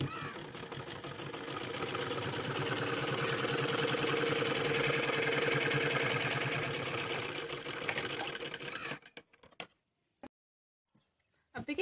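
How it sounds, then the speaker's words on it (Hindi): A sewing machine top-stitches a salwar seam in one long, steady, close-up run that stops abruptly, followed by a few faint clicks and rustles. "अब इसको खोल के इसके ऊपर दबाने वाली सिलाई लगाएंगे"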